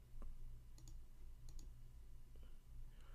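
A few faint, sharp computer mouse clicks come in sparse, irregular taps against a quiet, low background hum.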